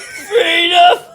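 A voice imitates retching, giving one strained, drawn-out gagging vocal sound that rises and holds briefly, loud and close.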